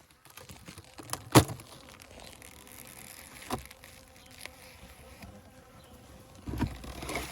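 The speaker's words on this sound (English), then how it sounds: "There's a bunch of bees doing their thing." Honeybees from a swarm that settled in an empty hive buzz faintly around the opened box, a soft steady insect hum broken by a few sharp clicks and crinkling handling noises close by.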